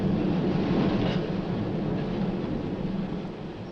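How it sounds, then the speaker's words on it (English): Train running on the King's Lynn to Hunstanton country branch line toward the sea, a steady loud interior rumble of wheels and carriage noise throughout, slightly easing toward the end, with no talk. "I've always wanted to do this on a train, to be able to go on one of these country line journeys"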